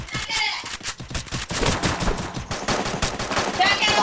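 Rapid automatic gunfire rattles in the battle royale game Free Fire, with dense bursts of shots in quick succession, loud and close, while a player talks over it.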